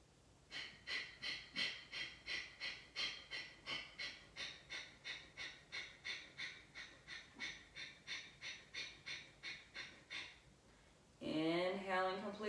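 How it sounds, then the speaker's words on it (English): Bhastrika yoga breathing: a long series of rapid, forceful breaths through the nose, about two per second, close and rhythmic, ending with a pause and then a longer, louder breath. "we can move to Bhastrika breath, which is the same thing without the pause at the bottom"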